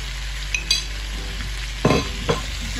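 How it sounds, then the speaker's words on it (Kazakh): Meat, potato, carrot, onion and tomato paste frying in a pot for mampar soup, a steady low sizzle broken by a few loud clanking scrapes of a spoon stirring against the metal, close and without talk. "Жақсылап қуырамыз, барлығын араластырып."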